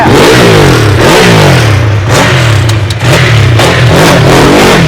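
A motorcycle engine revs hard and close, its loud exhaust note rising and falling in repeated throttle blips.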